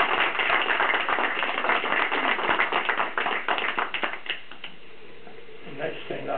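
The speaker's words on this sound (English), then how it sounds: "So I'd like to give her a round of applause for that." A community meeting audience gives a short round of applause, with dense clapping for about four seconds before it tapers off into room quiet.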